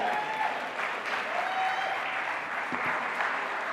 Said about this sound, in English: we'd like to give them a huge round of applause for their support